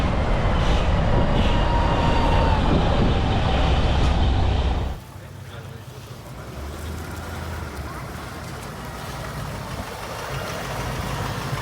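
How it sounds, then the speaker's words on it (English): A vintage German tram rumbles along with a loud, steady rolling roar at a Bremen tram museum open day. The noise drops abruptly partway through to a quieter rumble as it moves off. "Our tram headed off as it was running back and forth to the railway station all day"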